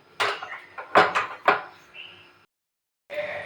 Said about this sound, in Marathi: आता हे सगळं आपल्याला मस्त असं मिक्स करून घ्यायचं आहे